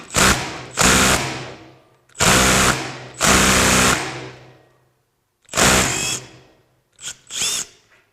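A power tool spins out the socket-headed cap screw holding the dampener piston in the base of a Suzuki GS1000 motorcycle fork, in loud close bursts of about a second each, five or six runs separated by short pauses.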